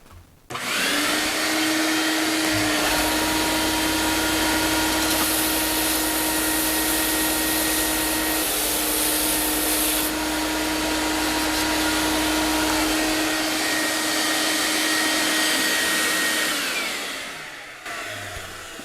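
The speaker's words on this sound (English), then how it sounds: "Get the vacuum turned on." A shop vacuum drones loudly and steadily while sanding a laser-engraved piece, starting abruptly and winding down near the end, with no voices.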